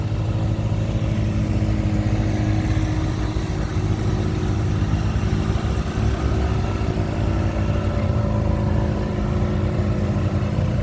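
A tractor engine runs steadily at a tractor and engine show in Portland, a continuous loud low drone with a mid-pitched rumble and no clear revving, heard up close for the whole stretch.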